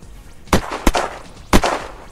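Three sharp gunshots ring out in the battle royale video game Unturned. Two come close together, then a third follows after a pause, each loud and punchy with a short tail.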